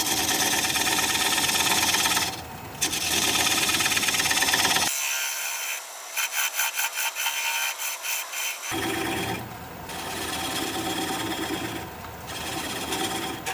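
A wood lathe turning a sassafras piece, slowed to around 400 RPM: a steady, loud machine drone with a rattling, buzzing texture and brief changes in tone as the tool cuts, with no talking.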